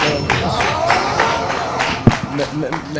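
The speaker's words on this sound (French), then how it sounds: "Applaudissons encore pour Lens. Bravo." An audience applauding in a French television talk-show studio, a dense, steady wash of clapping and crowd noise with a few sharper claps standing out near the end.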